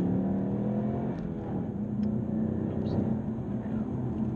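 A manual Performance Pack EcoBoost Mustang accelerating at full throttle from about 3,500 RPM, its engine note a loud harmonic drone rising in pitch and holding strong from inside the car.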